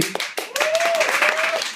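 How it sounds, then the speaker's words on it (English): An audience clapping after a comedy set, a few sharp separate claps at first that quickly swell into dense applause mixed with cheering voices. "you deserve a round of applause for that"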